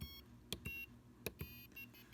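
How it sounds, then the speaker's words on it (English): A small electronic buzzer on a Simon memory game board plays a short cheerful tune of quick beeps after a correct level, faint and close, with no voices. "the buzzer plays a fun little song"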